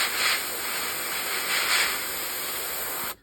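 Airbrush spraying paint onto a vintage 1972 Airfix 1/72 scale Mosquito model: a steady close hiss of air and paint, swelling slightly in two soft bursts before cutting off abruptly at the end.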